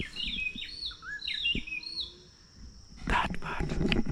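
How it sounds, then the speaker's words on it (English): Several bright bird chirps and short tweets sound close by in an African outdoor setting during the first half, then give way to louder broadband rustling and handling noise. "You hear that bird?"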